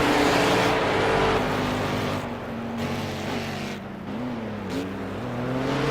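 Ginetta GT4 race car lapping a circuit in a European GT4 Championship race, its engine note droning steadily and rising and falling through the corners, loud and close with no talk over it.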